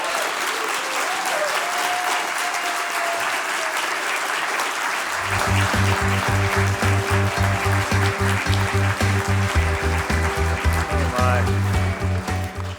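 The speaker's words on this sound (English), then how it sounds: "let's give a final big round of applause to our 2024 Fellows" Steady applause from a large crowd fills the whole stretch, with rhythmic music thumping in underneath for the second half.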